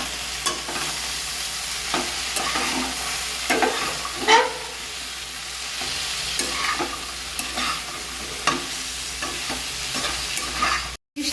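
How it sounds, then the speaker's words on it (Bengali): A spoon stirs spices into ridge gourd and a fish head in a hot pan, scraping and knocking at a steady pace over a soft background sizzle, with no one talking. "সাথে সব মশলা মিশিয়ে ভালো করে নেড়ে চেড়ে"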